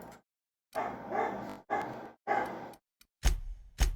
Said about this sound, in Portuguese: começou as minhas cachorras a brigar